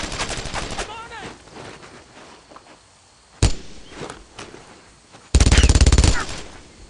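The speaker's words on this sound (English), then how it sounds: "Shut that gun down!" Bursts of machine gun fire in the World War II shooter Brothers in Arms: Road to Hill 30, with a sharp single crack midway and a loud sustained burst near the end, amid shouting and battle noise.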